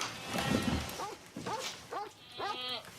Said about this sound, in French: Est-ce qu'il a gueulé comme ça, le chien?